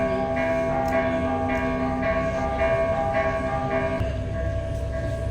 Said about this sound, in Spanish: Vamos a esperar un poco a las campanas y visuales.